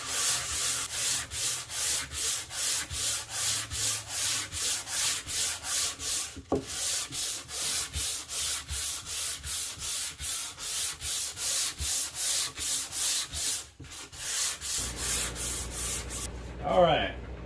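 Sandpaper rubbed along the grain of a wooden board in steady back-and-forth strokes, about two per second, close and clear, with a short pause midway and a few faint voice sounds near the end.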